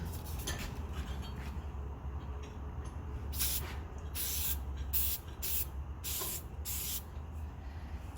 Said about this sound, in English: So let's spray a bit on and we'll come back in 15 minutes to wipe it off.